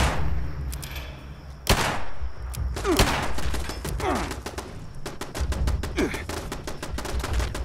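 Rapid turret gunfire spraying incendiary rounds in a video game, loud bursts of closely spaced shots with a heavy thump near the start and steady crackling fire running throughout, no voices.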